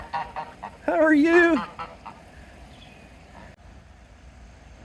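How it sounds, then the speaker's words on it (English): A single loud goose honk rings out up close, with a person speaking briefly before it and quiet outdoor ambience after. "Look at these big geese."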